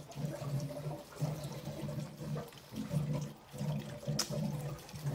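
Water runs steadily through a rural home's sediment filter and pressure tank system after being switched back on, a continuous close hiss and gurgle with a rhythmic pulsing and a brief clink near the end.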